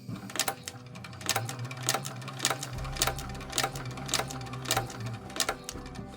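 A sewing machine stitches a foam handbag gusset for an EVA Shamballa bag, with a close, loud, rhythmic series of regular mechanical thumps over a low motor hum and no voices.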